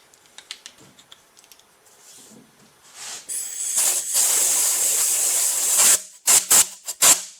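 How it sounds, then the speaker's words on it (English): A compressed-air blower nozzle blasts air over a freeze-cracked 400 engine block. A few light clicks come first, then a loud, close, sustained hiss lasts about three seconds and is followed by three short, sharp bursts of air. "Where'd the blower nozzle go?"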